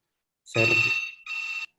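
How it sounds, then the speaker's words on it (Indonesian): A telephone ringtone sounds in two short, bright electronic bursts separated by a brief gap, loud and alone against silence. "Bentar, ada telepon, bentar."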